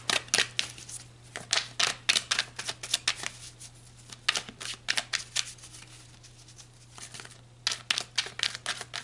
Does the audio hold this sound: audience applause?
no